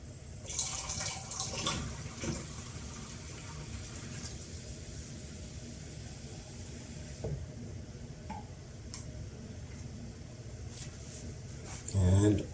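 Water poured into the dustbin water tank of an Airrobo T10+ robotic vacuum and mop, a soft steady trickle lasting several seconds under a faint background, ending with a brief louder clunk of handling.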